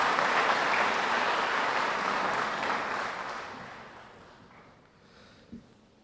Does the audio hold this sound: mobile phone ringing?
no